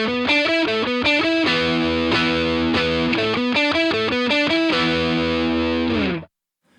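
A distorted electric guitar plays a riff as a power chord followed by a couple of picked notes. The phrase repeats in a choppy, slightly off pattern, loud and close, then cuts off sharply near the end.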